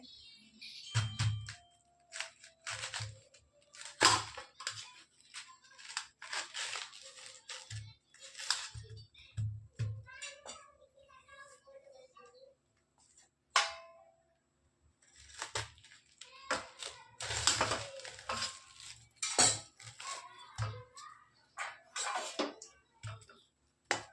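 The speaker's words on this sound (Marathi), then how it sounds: "एक कोबीचा गड्डा घेतला आहे याला कापून दोन भाग करायचा आपल्याला आणि किसून घ्यायचं आहे" A cabbage head being grated by hand in a home kitchen, with a steady run of short, rough scraping strokes, some brief pauses, and occasional clinks of the grater and bowl, fairly close and alone.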